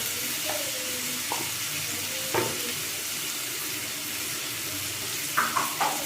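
Potatoes stirred in hot oil in a pan, with a steady broadband sizzle running throughout and a few sharp utensil clinks and scrapes against the pan, loudest near the end.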